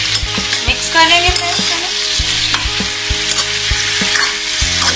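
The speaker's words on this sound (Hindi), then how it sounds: "साथ ही हम इसमें डालेंगे हल्दी पाउडर और इसे हम मिक्स कर लेंगे" Pumpkin curry with turmeric stirred in a pan, a loud continuous sizzle with regular scraping strokes of a spoon against the metal, no voices.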